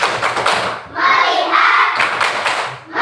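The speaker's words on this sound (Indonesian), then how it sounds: "Tepuk fokus." Classroom pupils perform a rhythmic focus clap routine, crisp group hand claps in a patterned beat broken by short chanted phrases from children's voices.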